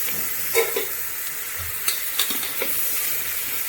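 Green chillies fry in hot oil in a pan for a tomato rice dish, a soft steady sizzle broken by a few scraping clicks of a spoon stirring, close and fairly quiet, no voices.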